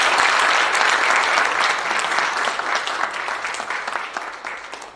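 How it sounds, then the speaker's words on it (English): Audience applause at a book launch, a dense sustained clapping from a room full of people that stays strong before gradually thinning toward the end. "I think those rounds of applause should be a little louder"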